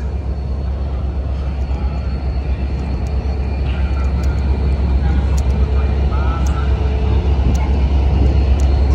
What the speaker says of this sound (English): And the take train is moving.